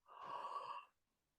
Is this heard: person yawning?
yes